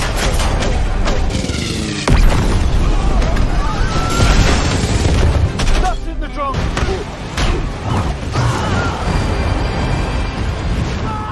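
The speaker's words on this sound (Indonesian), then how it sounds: "pesawat tempur milik kelompok Victor langsung memberikan tembakan bertubi-tubi." Rapid gunfire barrage from fighter planes in an action film, a dense, loud, continuous rumble of shots and impacts with booming bursts, filling the scene throughout with little pause.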